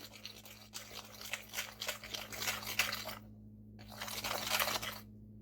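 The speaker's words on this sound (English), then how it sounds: "Give that a good whisk" A whisk beats pumpkin pancake batter in a bowl with quick, wet scraping strokes in two spells separated by a short pause, faint and close, over a steady low hum.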